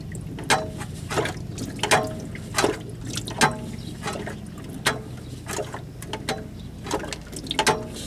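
Transmission oil from a GMC Savana sloshes and drips out of the pan during an oil and filter change, a series of irregular wet splashes and spatters spaced about a second apart over low, steady background noise.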